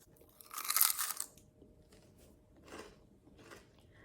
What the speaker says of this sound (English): Just listen to the crunch.